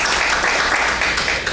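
An audience at a wellness symposium claps steadily for a Navy veteran, a dense, even wash of hand claps that holds for the whole short stretch without pause.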